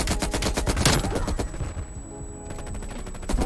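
The Rambo weapon in Call of Duty Cold War fires a rapid, sustained automatic burst, dense thudding shots in quick succession with a brief lull midway before resuming.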